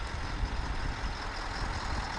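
A Tatra 8x8 truck with a 12.7 litre V8 diesel pulls itself out of deep mud, its engine giving a steady, fairly loud low rumble with no talking over it.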